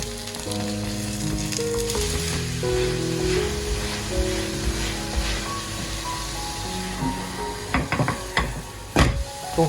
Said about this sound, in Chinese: 底面煎着进行，再翻一个面继续煎。